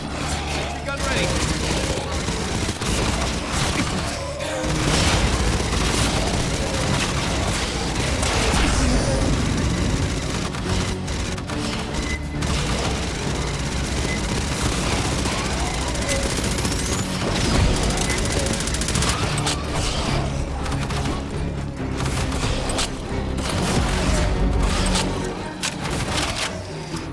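Gunfire in Aliens: Fireteam Elite rattles on almost nonstop in sustained bursts against mutants, with loud booms mixed in and voices calling out over the shooting.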